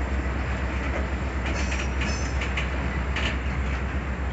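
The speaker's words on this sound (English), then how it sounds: "this is a long train" A long Norfolk Southern or Union Pacific freight train rolls past at Ludlow, a steady low rumble of cars on the rails with faint squeals and clicks.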